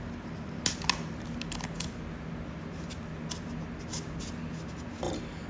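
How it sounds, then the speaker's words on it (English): A blade cuts through the styrofoam liner of a motorcycle helmet with short, sharp scratchy crunches and squeaks, several separate strokes close by over a low background hum. "that's how smooth styrofoam looks like. Okay, let's cut away a little more."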